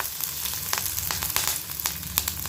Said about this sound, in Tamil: நல்லா வெங்காயம் வதங்கட்டும் இப்போ இதில் கருவேப்பிலையை சேர்த்துக்கணும்